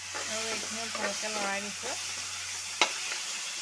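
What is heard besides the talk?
sizzling in a wok while cooking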